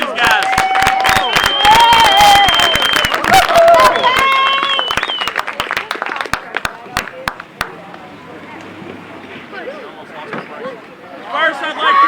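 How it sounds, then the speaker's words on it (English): A crowd at an 11U baseball championship bursts into loud, sustained applause with cheers and high whistles that gradually thin into scattered claps and murmuring voices, then a fresh swell of cheering at the end. "how about a round of applause for these guys?"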